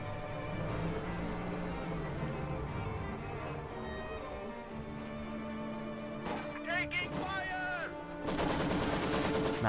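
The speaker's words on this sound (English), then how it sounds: "T-34 relying mainly on its MGs to deal damage to infantry" Machine gun fire from a T-34 tank in a World War II real-time strategy game, with bursts of automatic gunfire set against a dense battle soundscape and loud bursts near the end, with game voices heard throughout.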